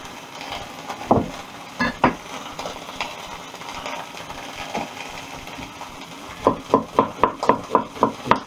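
Onions frying in a pan for sausage and mash with onion gravy: a continuous close sizzle broken by sharp knocks, then a quick run of rhythmic taps of utensil on pan near the end.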